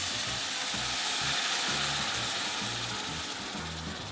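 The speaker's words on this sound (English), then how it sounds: "we're just going to deglaze now with a little bit of white wine" White wine hits a hot pan of pasta base ingredients, giving a loud, steady hiss that holds for several seconds, with occasional scraping and clinking underneath.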